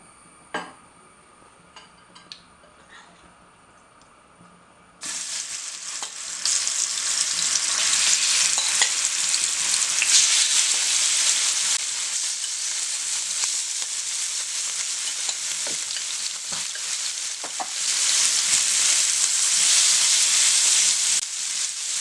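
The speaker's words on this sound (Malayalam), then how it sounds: "അപ്പോൾ നല്ല വെളിച്ചെണ്ണ തന്നെ നമുക്ക് ഉപയോഗിക്കാം ഫ്രൈ ചെയ്തെടുക്കാനായിട്ട്" Prawns shallow-frying in coconut oil for a Kerala-style prawn roast: faint clicks at first, then a sudden loud, steady sizzle and crackle once they hit the pan, swelling again near the end.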